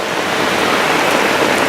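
Heavy rain pours down steadily on a rain garden, a dense, loud, continuous hiss of falling water with no pauses and no voices.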